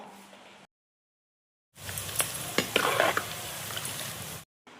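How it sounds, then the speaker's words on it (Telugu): Sliced okra frying in hot oil, a close sizzle that drops out to silence, then returns louder with bubbling and a few sharp spatula knocks and scrapes before cutting off. "నూనె వేడిగానే బెండకాయలు వేసుకోవాలి మంచిగా గోలిన వల్ల తీసుకోవాలి"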